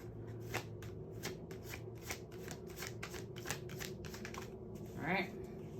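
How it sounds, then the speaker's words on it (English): Tarot cards being shuffled by hand in rapid repeated riffles and snaps, close and crisp, with a brief voice breaking in near the end. "I'm gonna finish the shuffle"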